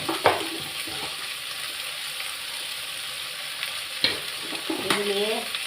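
Potatoes sizzling in a pan with salt and chili powder as a spoon stirs them, with sharp scraping clatters against the pan over a continuous frying hiss, close and fairly loud.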